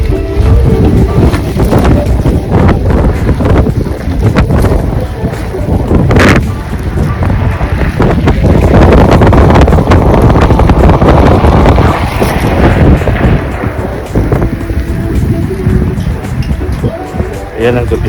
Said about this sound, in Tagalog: Mahangin, may yelo, umuulan ng yelo.